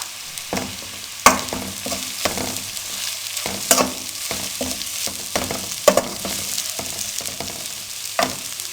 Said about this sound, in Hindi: अब बॉयल शेडेड चिकन डाल देंगे।